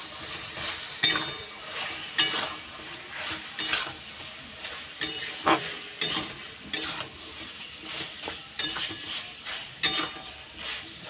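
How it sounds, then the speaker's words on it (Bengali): Onion frying in a pan with ginger garlic paste for a thin meat curry, a steady sizzle under repeated spatula stirs and scrapes against the pan, close and moderately loud. "আদা রসুন দিয়ে ভালো করে আবার ভেজে নেব।"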